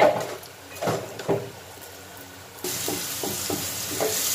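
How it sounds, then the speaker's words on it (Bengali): Onion, green chilies and salt frying in a pan for a Bangladeshi village-style fish curry: a steady close sizzle with a few soft stirring scrapes, growing brighter and louder partway through. "মাছের ঝোল করার জন্য আমি পেঁয়াজ কাঁচামরিচ আর লবণ দিয়ে দিয়েছি দিয়ে হালকা একটু ভেজে নিচ্ছি"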